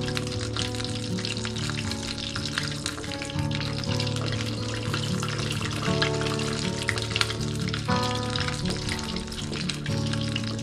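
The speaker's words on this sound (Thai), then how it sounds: "หมูกรอบวันนี้จะทอด2รอบนะคะ" Pork belly crackling deep-frying in hot oil on its second fry, a dense, loud, continuous sizzle and bubbling that holds steady throughout with no voices.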